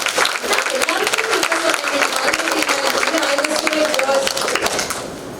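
Audience applause at a parenting talk, dense sustained clapping from a crowd with some voices mixed in, tapering slightly at the end.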